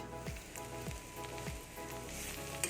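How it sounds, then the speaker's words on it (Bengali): Bitter gourd pieces frying in hot oil, a steady close sizzle and crackle with a few soft clunks, no voices. "ওই তেলের মধ্যে করলাটা ভেজে তুলে রেখে দেবো"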